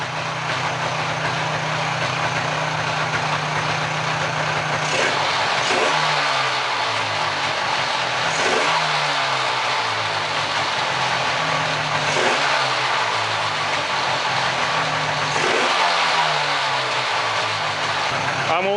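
A rebuilt engine, pieced back together from parts, revs up repeatedly from a smoky idle, each rise and fall of pitch loud and close, roughly every few seconds, with a voice talking over it.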